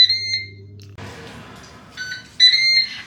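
A Ninja Speedi cooker signals the end of a grilled bacon cooking time with loud, bright electronic beeps in short bursts, a pause, then more beeping toward the end.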